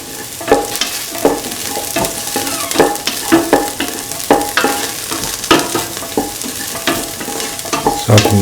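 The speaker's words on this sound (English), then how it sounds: "Saute and mix the onions and the shallots nicely." Onions and shallots sauté in a pan with a soft sizzle, broken by repeated scraping strokes of a spoon stirring them, close up with no talking.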